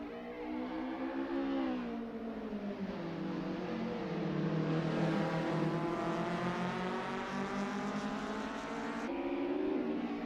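Engines of Lotus Cortina race cars lapping the Solitude 1964 circuit in the racing game Assetto Corsa, a continuous loud drone rising and falling in pitch as the cars accelerate and shift.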